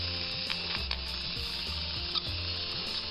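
A Hornby R350 Mallard A4 model locomotive's small electric motor runs while being oiled, giving a close, steady whirring buzz with a quick repeating flutter in its tone.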